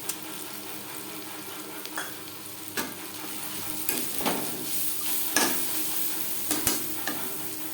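Vegetables and chicken stir-frying for chicken fried rice, a loud steady sizzle with repeated scraping and clanking of a spatula against the pan at an uneven rhythm, no voices.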